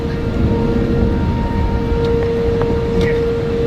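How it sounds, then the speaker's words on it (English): Warning sirens sound during a severe hurricane in Florida, a steady sustained wail carrying over wind and rumbling outdoor noise, with faint voices in the background. "there's the sirens, you guys."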